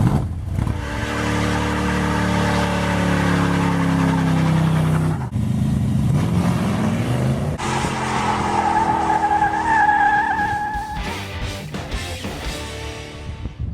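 A 1980 Dodge drag truck with a 360 Mopar small-block engine roars at launch as its tires squeal loudly against the pavement, then revs rise and shift, close and intense.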